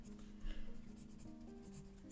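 A fine-nib fountain pen inked with Anderillium Tulip Moth scratches softly across paper in short strokes, faint and close, with no voices.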